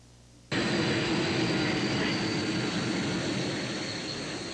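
A jet fighter aircraft roars in abruptly, a loud, broad, sustained rushing engine noise that holds steady and fades only slightly, on an Air Force base in Texas.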